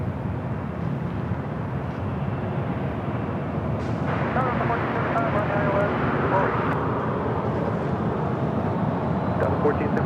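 A Southwest Boeing 737-700 jet at LAX airport, its engine roar building to a steady loud rush with a rising whine, heard from nearby alongside faint radio chatter.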